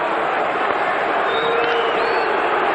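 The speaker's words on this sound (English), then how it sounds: "The crowd starting to make some more noise here and try to get into it." A 1991-92 NHL hockey arena crowd during an Islanders game against the Red Wings makes a dense, continuous roar and murmur at a steady loud level, heard from a distance.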